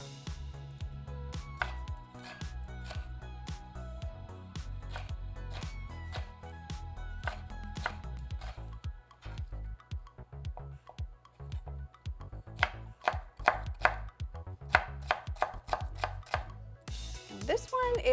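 A knife chops chili pepper on a cutting board in quick, crisp strikes, with bursts of rapid cuts, close and clear over faint background music.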